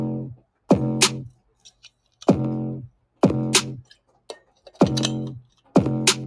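A programmed drum machine beat from a home studio sequencer repeats a punchy, evenly spaced pattern of loud hits with snare. The strikes land about every 0.8 seconds, with faint ticks in between.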